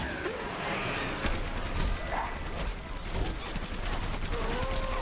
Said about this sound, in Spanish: Yo estoy disparando por disparar.